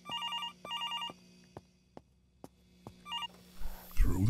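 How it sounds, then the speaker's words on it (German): Telephone ringing in the horror video game Infliction: two quick bursts of electronic trills, a pause with faint clicks and steps, then another ring, followed by a rustling noise near the end. "Jetzt klingelt hier ein Telefon."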